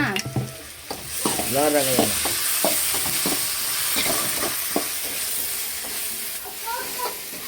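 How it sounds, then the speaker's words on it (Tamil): Onions sauté in a pan for gravy, hissing and sizzling steadily while a utensil scrapes and stirs them in repeated strokes, close up, with a voice and chatter faintly in the background. "இப்போ வெங்காயம்லாம் போட்டு சேர்த்து வதக்கிட்டு இருக்கோம்"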